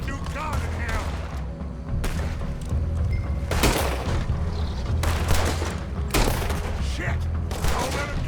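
Heavy gunfire in Red Dead Redemption 2, with bursts of shots and booming reports coming thick and loud throughout, and voices shouting now and then among the firing.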